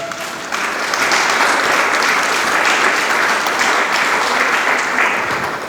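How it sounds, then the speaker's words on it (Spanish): Congregation in a church service clapping their hands in praise to the Lord, a loud, sustained, even roar of many hands that swells in after a brief pause and carries on without talk. "Dele palmas al Señor."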